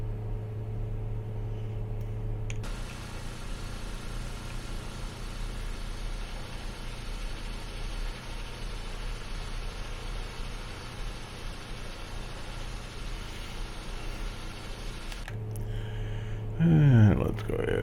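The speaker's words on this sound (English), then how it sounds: "looks like we've got a good engine start on that left engine" Saab 340A turboprop in X-Plane 11, its left engine just started and running steadily, a continuous broadband whine and drone with a low hum that holds throughout, then eases near the end.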